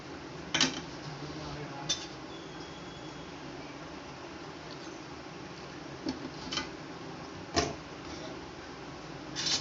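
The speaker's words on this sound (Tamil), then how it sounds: "நம்ம கிண்டி பார்த்துக்கிட்டே தான் ஊற்றணும்." Pearl millet flour being stirred in a vessel as syrup is poured in, heard as soft scraping with a few distinct metallic clinks of a spoon against the pot over a low steady hiss, close and fairly quiet.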